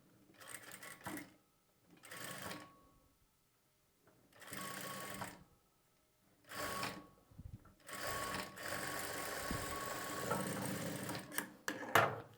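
A sewing machine stitching piping onto a blouse back neck in bursts of whirring, each run a second or two, with pauses between and a longer continuous run near the end.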